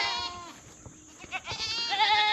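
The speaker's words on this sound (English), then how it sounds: "Should we keep the goats?" Farm goats bleat several times at close range, wavering cries that rise and fall with short pauses between calls.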